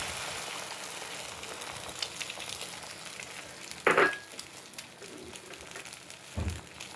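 A beaten egg omelette mixture is poured into an oiled pan and sizzles softly and steadily, with a couple of sharp utensil knocks against the pan.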